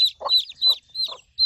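A broody hen clucks nearby in a rapid rhythmic series, each loud two-part cluck landing roughly every few tenths of a second with no talking.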